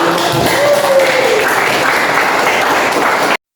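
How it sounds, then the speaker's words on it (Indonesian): A classroom group claps in applause for a presenting group, steady dense clapping from many hands filling the room, loud and close before cutting off abruptly, with a brief voice underneath. "Semuanya kita berikan aplaus untuk kelompok 1"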